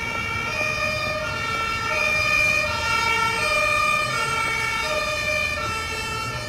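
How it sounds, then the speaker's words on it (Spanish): Ambulance siren passing through a city street, a steady wailing tone with rising and falling pitch that stays loud throughout, over a bed of road traffic noise. "¡Oh, no! Está pasando una ambulancia."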